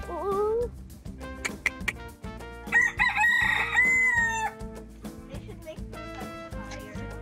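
A chicken calls nearby in Old San Juan, Puerto Rico, over a continuous bed of music with strong tonal lines, its sharp squawk rising clearly above the backing.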